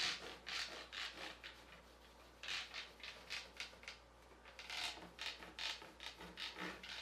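A liquid glide wax dauber is rubbed back and forth over the fish-scale area of a backcountry waxless ski, making faint, repeated scrubbing strokes in bursts with short pauses between them.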